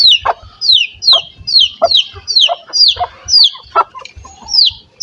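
An injured, limping hen clucking repeatedly at close range, a regular series of sharp rising calls with short gaps between them, loud and clear with no talking.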